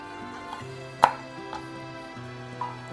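A knife chops broccoli rabe stems on a board in a few sparse strikes, one sharp and prominent, over a quiet steady hum.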